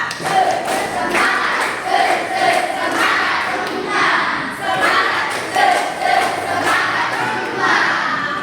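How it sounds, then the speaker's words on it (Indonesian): Schoolchildren in a classroom performing a rhythmic spirit clapping chant, loud group voices shouting in unison with repeated patterned claps and thumps. "Tepuk semangat kita."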